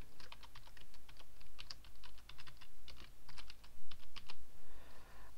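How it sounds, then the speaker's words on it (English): A title is typed on a computer keyboard in a quick, uneven run of close keystrokes with a few brief pauses. The clacking is moderately loud, with no speech. "Simply type in your title."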